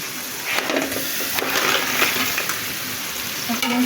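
Crabs added to a hot pan of fried spice paste: a steady oily sizzle with scraping, stirring and clattering of shells against the pan, fairly close.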